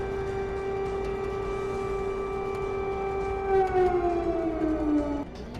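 A steady, loud siren at the White House drones on a sustained pitch, then its tone bends downward and winds down near the end.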